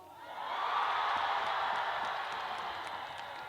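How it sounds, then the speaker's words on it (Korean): Crowd at an outdoor performance for the Dangjin citizens' sports festival roars and cheers in a sustained, steady wash of shouting that swells quickly and holds loud throughout, with no talking. "자 즐거우신 만큼 함성 한번 들어볼게요."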